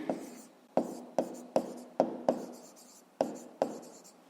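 Handwriting on paper for a fifth-grade maths exercise, heard as close, quiet pen strokes in about eight distinct taps and scratches at an irregular, steady pace with no talking.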